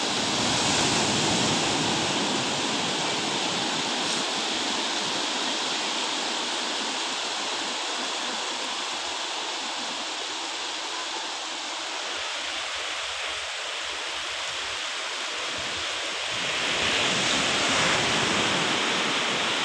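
Sea waves roll in on Digha beach as the tide rises, a broad continuous rush of surf that swells and eases over about twenty seconds, with louder wash at the start and near the end and no voices.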